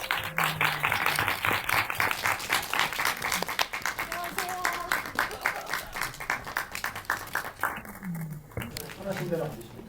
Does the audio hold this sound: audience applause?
yes